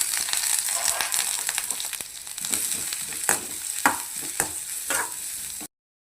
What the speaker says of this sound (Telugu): కొంచెం చక్కగా ఆయిల్లో ఫ్రై చేసుకున్నాం.